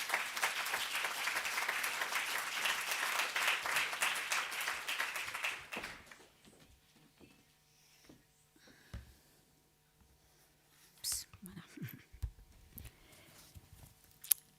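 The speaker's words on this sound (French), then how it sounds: "On l'applaudit s'il vous plaît." An audience at a parliamentary colloquium applauds with dense, sustained clapping for about six seconds, then it dies away into a quiet room with scattered shuffles and small knocks.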